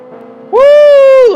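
Ferrari engine in Gran Turismo 7 rises into a loud, sustained high-revving whine with a strong harmonic tone, held steady for about a second after a quieter lead-in.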